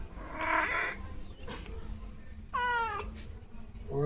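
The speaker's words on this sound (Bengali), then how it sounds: "কী পরিমাণ কষ্ট করতেছে বিড়ালটা।" A cat in labour meows faintly, a strained, wavering cry late in the clip over soft background noise, with a brief higher squeak earlier and no clear talk.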